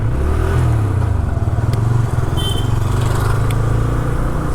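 A Bajaj CNG and petrol motorcycle rides along a road in Uttar Pradesh, its steady engine drone and wind rumble loud and continuous throughout, with faint clatter mixed in and no talking.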